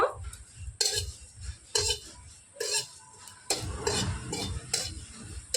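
Dry cumin, coriander and dried red chillies scrape and rattle in a dry wok as a spatula stirs them in repeated strokes, with a faint crackle underneath.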